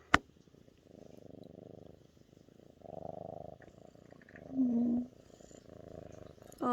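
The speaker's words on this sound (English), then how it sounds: "And she's purring." A cat purrs softly and close up, a faint rhythmic low rumble running for several seconds with a brief higher squeak partway through.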